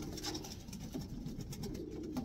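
Pigeon squabs cooing softly in a racing pigeon loft, a faint, continuous low murmur of overlapping coos with no talking.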